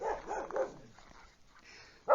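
A dog barks outdoors at night, far off and faint, in a few scattered calls over a quiet background, with one louder, closer burst at the very end.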